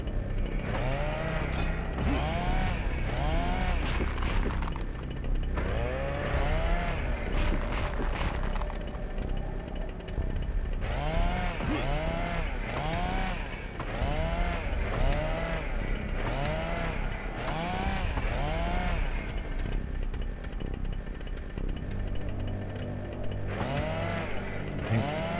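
A chainsaw-wielding enemy in the horror video game Nightmare Creatures 2 revs and buzzes in repeated loud bursts, its rising and falling engine whine cycling continuously amid dense game sound effects.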